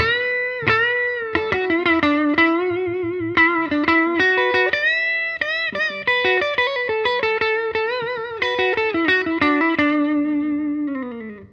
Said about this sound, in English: I'm using a Stratocaster into a clean amp, and I use a Strymon Flint for a little bit of reverb